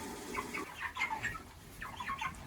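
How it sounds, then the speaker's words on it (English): Hungry chickens cluck and chatter softly in a coop, several short overlapping calls at moderate distance, faint with no talking. "Hungry, hungry chickies."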